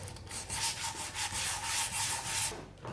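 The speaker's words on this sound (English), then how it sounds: "hand sanding" Steady back-and-forth scraping of sandpaper rubbed by hand over wood, a rhythmic series of strokes close up with no talking.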